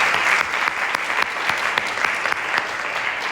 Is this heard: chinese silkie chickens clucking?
no